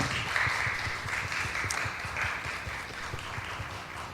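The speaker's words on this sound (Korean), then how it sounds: "우리 나오실 때 박수 한번 해주시죠" A church congregation applauds as a deaconess comes forward to give a testimony, producing steady, fairly dense clapping from a room full of people at moderate loudness.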